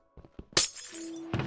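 A glass block shattering in Minecraft, a few soft footsteps and taps followed by a bright, crisp breaking crash with a ringing tail, then a short tone, close and alone.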